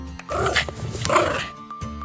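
Cartoon puppy guarding a bone growls and barks in a dense, continuous burst of yaps and snarls, loud and close, running almost the full clip over a music-like background.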